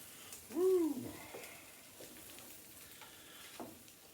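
Bologna sizzles faintly in a frying pan, with a soft scrape and clatter as a spatula flips it, then a quiet, continuous fry.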